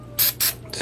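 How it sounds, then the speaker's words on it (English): Two quick hissing bursts of Deoxit contact cleaner spray, close up, followed by the start of a third. "spray a little deoxit right in them."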